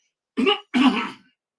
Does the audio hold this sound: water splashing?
no